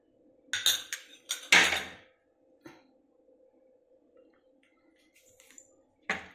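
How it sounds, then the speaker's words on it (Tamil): Ice cubes dropped onto cold coffee in a glass at home, a few sharp clinking rattles in quick succession, then quieter taps and a final clink. "மேலே கொஞ்சம் ஐஸ் போட்டுக்கலாங்க."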